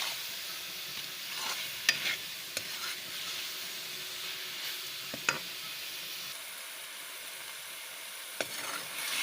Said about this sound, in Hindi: सब मसाले मैंने शामिल कर दिए। अब बुनाई करती हूँ।